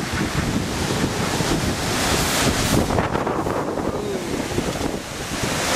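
Powerful wind gust during Hurricane Sandy roars loudly and continuously, buffeting the microphone with a broad rushing noise that swells and eases slightly over several seconds.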